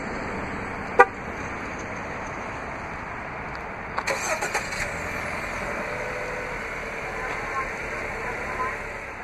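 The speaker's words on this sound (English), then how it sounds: "Just double press the remote start button on the key fob." A 2016 Jeep Renegade Trailhawk 4X4 engine starts by remote start, a brief click and crank near the four-second mark settling into a low steady idle, with a short beep earlier and a person talking over it.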